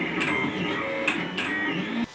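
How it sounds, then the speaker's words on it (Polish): A Raise3D printer whirs steadily up close while printing a whistle, its stepper motors humming and shifting pitch as the print head moves. "to jest drukarka 3D Rapcraft"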